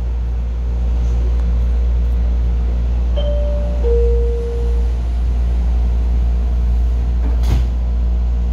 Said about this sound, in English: There go the doors